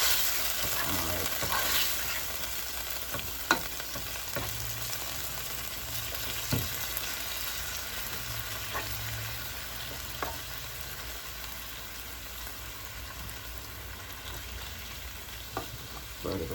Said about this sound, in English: And you know it takes a minute for your steak to cook.